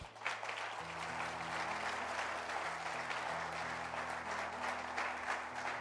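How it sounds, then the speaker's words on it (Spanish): A church congregation claps together during a Spanish-language service, a continuous wash of hands heard at moderate distance over a sustained low musical tone from keyboard or organ. "Denle un aplauso al Señor."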